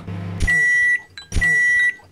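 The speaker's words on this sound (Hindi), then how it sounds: "अरे ये रहा माइक्रोवेव इतना ऊपर क्यों चला गया तू हो जा चालू" A microwave oven switches on and runs in two short bursts, each opening with a low thump and hum under a steady bright electronic tone, separated by a brief pause.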